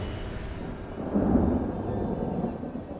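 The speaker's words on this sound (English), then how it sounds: "Oh, a bit of thunder." Distant thunder over the Bay of Islands rolls as a low, muffled rumble that swells gently midway and slowly fades, with no voices over it.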